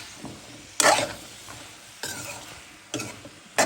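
Beans, potato and eggplant are sautéed with fish in a pan, a steady low sizzle broken by three loud scraping stirs of a spoon against the pan, close up with no talk.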